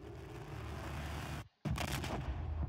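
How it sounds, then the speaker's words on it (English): Explosions in the video game Subnautica, a sustained loud blasting roar that cuts out briefly to near silence before a fresh burst of booming, crackling detonations resumes. "Explosions."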